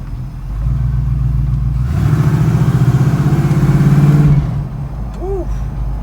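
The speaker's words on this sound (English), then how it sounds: "Take the 5-window for a quick spin. Got some serious power on here." A 1952 Chevrolet 5-window pickup driving along, its engine droning steadily and then pulling harder with a rising, throbbing revving note before easing off; the sound is loud and close, heard from inside the cab.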